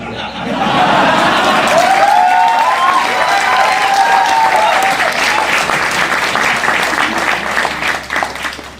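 Loud, sustained audience applause at a public talk by Bollywood actor Rajpal Yadav in Hisar, dense clapping with scattered cheers and chuckles, tapering slightly near the end.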